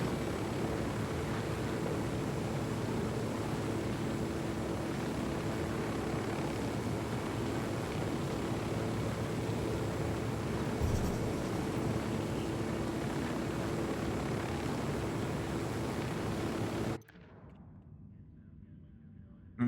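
Steady, loud drone of aircraft engines in Ghost Recon Wildlands, a continuous roar held evenly for most of the clip before it cuts off abruptly to near silence.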